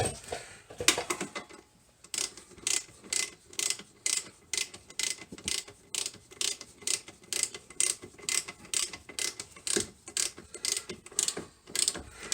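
A ratchet wrench tightens bolts to pull up a suspension arm while lowering a C4 Corvette: close, steady bursts of rapid clicking strokes repeat in an even rhythm, with no talking.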